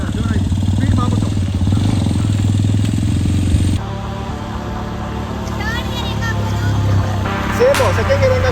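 A motorcycle engine is revved hard with the clutch fully held by a learner rider, producing a steady, loud, close droning that shifts pitch midway, while people talk over it.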